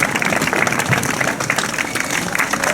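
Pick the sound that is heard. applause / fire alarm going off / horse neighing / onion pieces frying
applause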